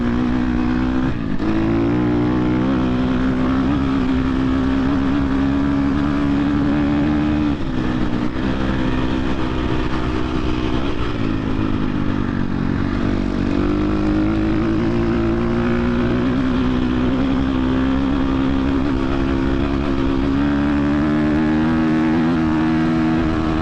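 A KTM 250 XC-F dirt bike ridden on desert trails, its engine droning loud and close throughout with rising and falling revs as the rider shifts and accelerates.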